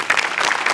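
Audience applause for a Marathi comedy show's set and music department, a dense, steady wash of clapping from a studio crowd, loud and continuous through the brief moment with no talking.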